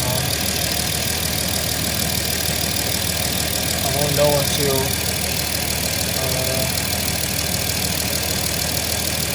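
A Dodge Ram truck engine idles steadily in a garage in cold weather after a rear coolant line leak repair, a continuous mid-pitched hum with someone speaking briefly over it.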